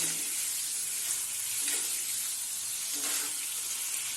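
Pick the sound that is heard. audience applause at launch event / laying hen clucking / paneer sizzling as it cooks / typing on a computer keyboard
paneer sizzling as it cooks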